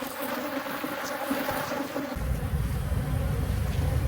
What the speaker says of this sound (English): We are riding in the car with a poop load of bees. They're not very happy.